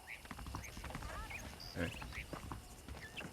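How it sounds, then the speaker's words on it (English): Steady hoof clip-clops from horses walking in Red Dead Redemption on Xbox 360, mixed with game ambience and faint chirps, continuous and moderately quiet. "The horses are saddled up over here."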